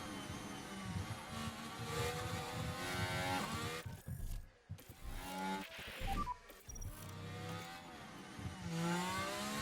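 Formula 1 race car engine on a flying lap in F1 Manager 2024, a loud continuous high-revving whine that rises and falls through gear changes, briefly dipping mid-lap before climbing again.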